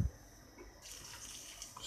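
Boiling water poured in a kitchen while cooking a bolognese-style dish, a soft continuous running and splashing stream, close and faint throughout, with no voices.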